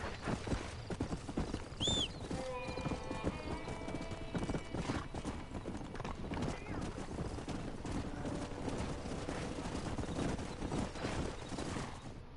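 Horse hooves clip-clop steadily in the Western video game Red Dead Redemption, with a neigh early on, creaking tack and a voice over a constant background.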